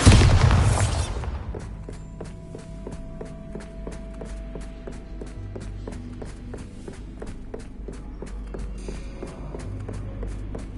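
A Bombarda explosion spell from Hogwarts Legacy bursts loudly at the start, then fades into a steady run of game footsteps and soft ambient rumble.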